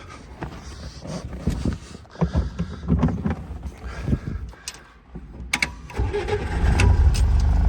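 A Chevrolet Corvair engine cranks with a series of uneven mechanical turns, then catches and settles into a rising, steady run, recorded close with no talk.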